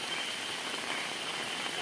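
Rainwater rushing down a village stream bed after heavy rain in forested hill country, a steady broadband wash of flowing water that stays even and close throughout with no voices.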